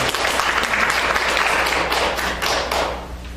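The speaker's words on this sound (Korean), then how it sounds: "박수 소리가 약한 건 아니에요." Audience applause fills a lecture hall, a dense steady wash of many hands clapping at a constant level for several seconds with no talk over it.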